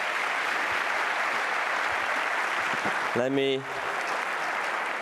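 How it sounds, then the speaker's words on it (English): An audience at an aerospace power conference claps in a dense, sustained wash of applause that continues throughout, with a voice briefly speaking over it near the end as the clapping thins slightly. "Please give her a round of applause."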